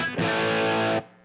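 An electric guitar played through an HX Stomp pedalboard with EQ and a dynamic ambient reverb gives one sustained, distorted chord that rings steadily and ends abruptly, leaving a faint reverb tail.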